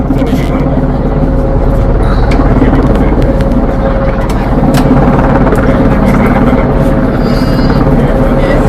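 A police patrol helicopter hovers steadily over a street with traffic, its low rotor and engine drone continuous and loud, mixed with road noise from stopped vehicles.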